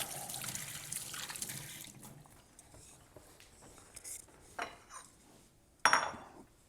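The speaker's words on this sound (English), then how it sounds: "Wash my hands off." Hands being washed under a running kitchen tap while making egg sandwiches, a soft steady water hiss at first, then quieter splashes and a few sharp clinks near the end.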